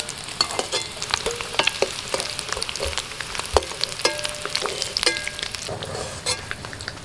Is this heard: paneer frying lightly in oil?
yes